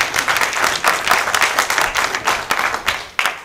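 Audience applause at a political gathering for Biram Dah Abeid and the Pacte de la Renaissance, a dense burst of close, loud clapping that holds steady for several seconds, with a few faint voices in the crowd.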